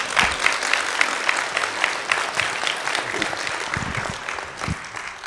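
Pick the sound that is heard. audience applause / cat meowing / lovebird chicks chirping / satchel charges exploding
audience applause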